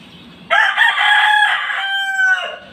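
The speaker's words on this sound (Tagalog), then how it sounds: "Tukturaok na naman ang aming manok na si Kuto." A rooster crows once, loud and near, a long strained cock-a-doodle-doo lasting about two seconds over a quiet background.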